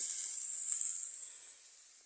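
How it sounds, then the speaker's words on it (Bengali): Potatoes and cauliflower fry in a pan, giving off a steady, bright hiss that is fairly loud at first and slowly fades, with no voices. "ডালিয়া হবে, আলু ফুলকপি ভাজছে বন্ধুরা।"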